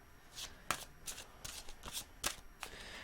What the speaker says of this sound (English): so let's do 3 shuffles and I'm good.